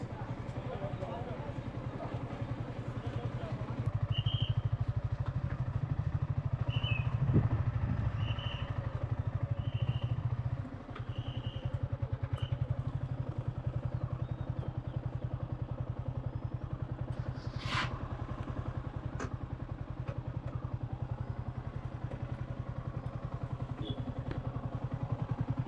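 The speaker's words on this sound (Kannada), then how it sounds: "ಈ ಗೊರಿಲ್ಲಾ 450 ಗಾಡಿ ನೋಡ್ರಿ, ಏನು ಮಸ್ತ್ ಇಂಜಿನ್ ಗೊತ್ತಾ, ಒಳ್ಳೆ ಟಾರ್ಕು" Royal Enfield Guerrilla 450 motorcycle riding at Nandi Hills, a steady close engine drone running throughout, louder for a stretch early on, with voices talking over it.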